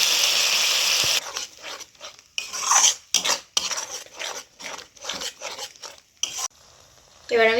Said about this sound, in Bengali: এবার আমি নারকেলের দুধটা দিয়ে দেবো।